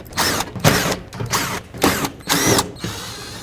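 A ratchet loosens 10mm bolts from the liftgate trim plate of a 2001-07 Toyota Sequoia, loud close-up clicking in four quick bursts separated by short pauses.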